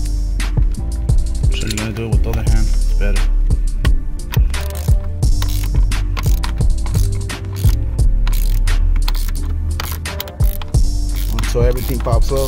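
A 16 mm socket on a ratchet wrench loosens the steering wheel nut of a Foxbody Mustang, giving loud, close, rapid clicking bursts with metallic clinks, repeated over several seconds, while someone talks at times.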